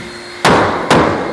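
Two sharp, loud hammer taps, about half a second apart, seat a wall panel element into place, each ringing briefly before fading, with no talk.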